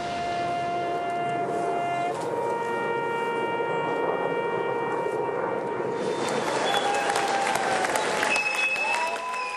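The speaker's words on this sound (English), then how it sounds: "Applause at the airport wasn't their only surprise." A crowd applauds veterans arriving on an honor flight at an airport terminal, steady moderate clapping throughout, with loud tonal horn-like drones and hums sounding over it and shifting partway through.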